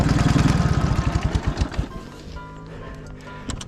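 A Dnepr MT 11 motorcycle engine revs hard while bogged down in swamp mud, a loud pulsing throb that fades after about two seconds into a lower, steadier idle, with one more brief rev near the end.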